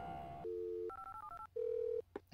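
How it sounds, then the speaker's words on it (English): Telephone dialing in the computer game Where in the USA is Carmen Sandiego: a series of short electronic tone beeps stepping between pitches, then a longer steady tone, crisp and alone. "To start your investigation, phone Acme Travel Service."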